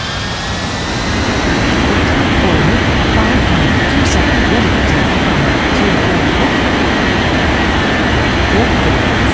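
Jet airliner taking off in an air traffic control game, a loud, steady broadband engine roar that stays close throughout, with a faint thin whine above.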